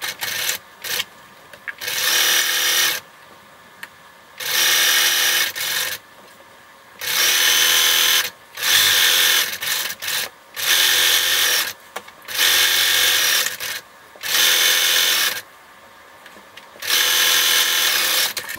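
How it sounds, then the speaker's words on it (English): A sewing machine runs a straight-stitch seam on a t-shirt being made into a child's romper, in repeated bursts of close, buzzing stitching a second or two long, separated by short pauses. "make sure that you sew with a straight stitch at half an inch"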